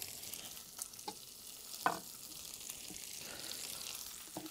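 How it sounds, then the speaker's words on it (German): Onions sizzle in hot bacon fat in a pan, a steady soft frying hiss broken by a few light stirring scrapes and taps, close by and with no voices. "Und die werden dann in unserem Baconfett schön angebraten."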